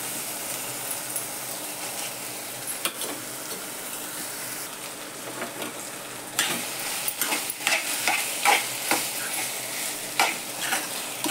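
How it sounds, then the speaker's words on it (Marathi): Mashed potatoes and frozen peas sautéed in a pan for samosa filling, a constant close sizzle that grows busier midway with repeated spatula scrapes and stirring knocks, with no voices. "आता ह्यात मी ते बटाटे कुस्करून घालते"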